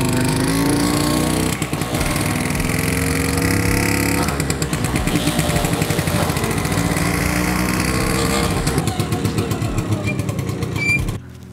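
A restored Vespa 50 L scooter buzzing close by as it rides around a house, its small two-stroke engine rasping loudly with rhythmic throttle surges and dips before cutting off at the end.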